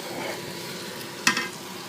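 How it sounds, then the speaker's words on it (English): Mushrooms stirred as they fry in a pan, a steady soft sizzle with light scraping and one sharp utensil clack near the end. "back to mixing it just until the mushrooms start to soften up"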